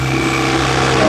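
A Tata Ace Gold mini truck with a low soot mass fault idles steadily close by, a continuous, even mechanical drone with no talk.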